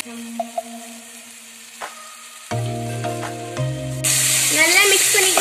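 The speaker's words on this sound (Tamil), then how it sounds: "தக்காளி நல்லா சாஃப்டாக வர வரைக்கும் வதக்கிக்கலாங்க." Onion and tomato sautéing in a pan for Indian-style veg pasta: quiet clinks and stirring open, then a steady sizzle rises and grows louder near the end, with music playing underneath.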